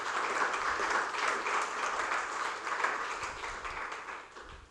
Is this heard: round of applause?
yes